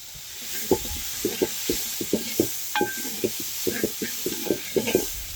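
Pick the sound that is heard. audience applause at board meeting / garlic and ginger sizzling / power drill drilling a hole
garlic and ginger sizzling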